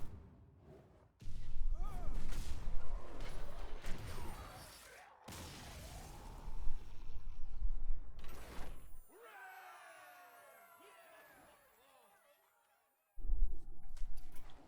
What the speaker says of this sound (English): got another artillery strike